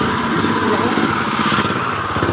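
A motorcycle engine runs steadily up close, a loud continuous buzzing drone with no breaks.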